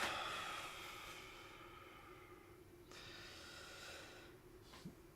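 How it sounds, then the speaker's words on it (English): A slow, deep meditative breath drawn in and let out softly and close, a faint airy hiss with a quiet snort-like sniff near the end, no talking. "So let's take that breath now."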